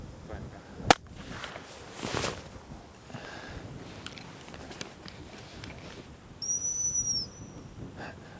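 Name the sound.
dog training whistle blown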